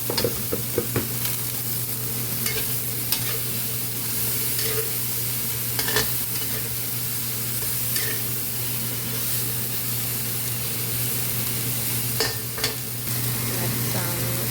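Vegetables stir-frying in a pan with meat, garlic and onion, a steady loud sizzle with occasional scraping stirs and clinks of a utensil, heard close over a low constant hum.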